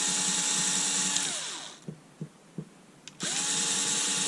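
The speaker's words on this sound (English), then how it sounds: "I'm just going to try and drill out" A drill boring into the plastic casing of a Bosch 9.6v NiCd battery pack, a loud close motor whine that winds down, then a few knocks and clicks, then the whine starts up again.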